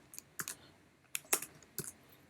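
Quick bursts of typing on a computer keyboard, a few sharp close clicks in small clusters with short pauses between, alone in a quiet room.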